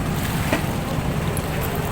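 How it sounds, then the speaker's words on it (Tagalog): A boat engine drones steadily out on calm open sea, a constant low rumble blended with wind and water wash, with no talking. "Yun na yung bangka."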